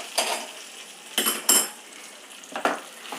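A spoon clinks against a pot while ghee and asafoetida are stirred into godhumai rava pongal, giving a few short scraping clatters with quiet pauses between them and no talking.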